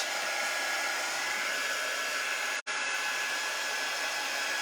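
A hair dryer blows steadily at close range, drying craft paint in a Colonial Blue background, its broadband whoosh cutting out for a split second before resuming.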